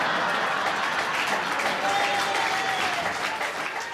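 Steady, dense applause from an audience fills the whole stretch, loud and continuous without pause.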